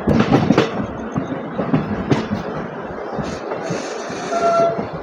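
A passenger train from Agartala railway station rumbles along with rhythmic clattering of wheels on the rails, loud and close, with occasional squeals and a faint whistle near the end.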